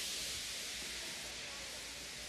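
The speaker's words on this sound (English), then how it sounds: "He just let off steam feebly." A steam engine at a station feebly lets off steam, a steady, soft hiss of even breathy noise lasting a couple of seconds.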